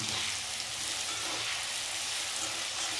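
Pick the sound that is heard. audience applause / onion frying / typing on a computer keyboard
onion frying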